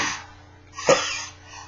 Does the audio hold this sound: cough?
yes